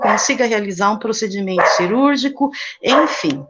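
Pet dogs bark in short bursts in the background of a room while a person speaks Portuguese continuously over them, the barks partly masked by the voice.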